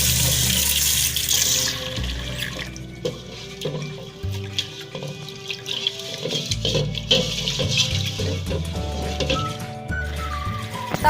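Glutinous rice is rinsed under a running kitchen tap, water gushing continuously with splashing and sloshing as the grains are stirred, close and fairly loud.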